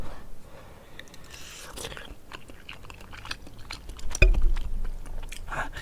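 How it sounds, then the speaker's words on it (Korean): Hot cheese-filled rice cake pulled from ramen being bitten and chewed close up, soft mouth sounds with a louder crunchy bite near the end, no talking. "아까 굉장히 맛있었던 치즈떡을 다시 먹어볼게요"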